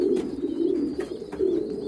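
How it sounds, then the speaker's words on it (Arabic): Young pigeon squabs beg for food with thin, high peeps over low, soft cooing from adult birds in a loft, all heard close and without any talking. "الزغاليل بدأت تصاص عليه"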